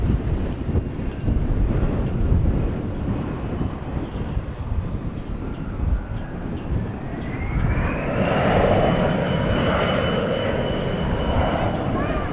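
A jet airliner arrives at DFW Airport at night, its engine roar building from a rumbling, windy background into a louder rising whine partway through, with talk audible beneath it.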